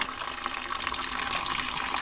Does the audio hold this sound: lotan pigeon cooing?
no